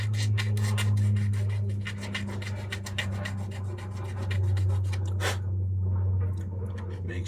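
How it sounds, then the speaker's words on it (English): Razor file rasping back and forth to smooth a sprue nub on a plastic part of a 1/16 MPC General Lee model kit, a steady close scratching with a low hum underneath. "I like to use my razor file on this stuff because it does nice clean job"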